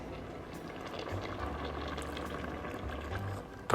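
Cucumber for pulincurry simmers in a pot, a quiet, steady bubbling with faint low gurgles and a small clink at the end.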